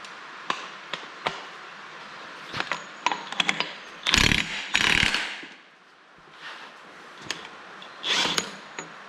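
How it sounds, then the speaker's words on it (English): A wrench works a nut loose on a Kubota V2003T diesel engine stripped from a flood-damaged Toro Groundsmaster 4000D, with scattered metallic clicks, ratcheting bursts and a few louder grinding scrapes, close and intermittent. "So let's get this nut off."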